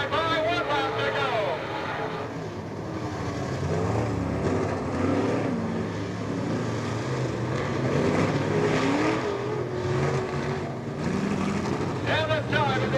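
Old-timer race cars roar around the oval at Peoria Speedway during an Old Timers Day race, engines droning steadily and mixing with a public-address announcer calling the finish.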